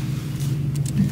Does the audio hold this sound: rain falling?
no